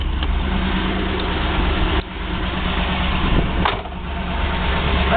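A 1970 Chevrolet Camaro RS Z-28 with a numbers-matching V8 idles with a steady, close, loud low rumble, continuous throughout with small dips and swells in the exhaust note.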